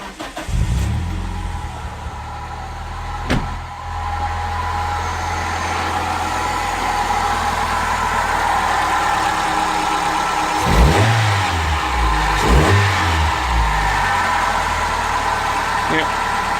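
A Toyota Carina engine cranks and fires up, then settles into a steady close idle with a couple of brief revs rising and falling later on.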